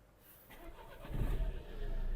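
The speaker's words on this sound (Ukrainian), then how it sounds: "Автомобіль завівся тихо, рівно, ніяких помилок не горить." A Renault Megane dCi diesel engine turns over and starts, then settles into a steady low idle hum that grows louder and holds.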